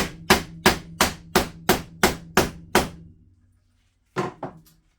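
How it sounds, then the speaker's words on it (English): A hammer drives a nail into a wooden beehive frame with eight sharp, evenly spaced blows, then a pause and two quicker taps, close and loud. "you get your hammer and you finish driving the nail in."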